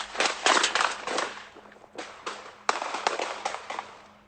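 Gunshots in a rapper's Instagram live stream ring out as a rapid string of sharp, harsh cracks, a dense volley followed by scattered bursts, loud and distorted through a phone microphone.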